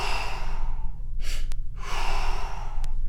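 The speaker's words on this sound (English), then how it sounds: "So we breathe in." A deep inhalation through the nose during a breathing exercise, two long audible in-breaths close to the microphone, each ending with a brief sharp catch, over a steady low background hum.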